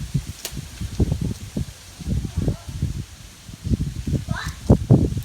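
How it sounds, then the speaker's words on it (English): Wind gusting outdoors across a land art sculpture, arriving as uneven low buffeting rushes with a light rustle, close and fairly loud throughout, swelling again near the end. "Here comes the wind. Let's see what happens."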